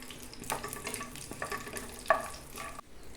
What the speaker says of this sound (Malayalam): ആ നെയ്യിൽ തന്നെ നമ്മൾ നല്ലോണം അണ്ടിപ്പരിപ്പ് മുന്തിരി വറുത്തെടുക്കുക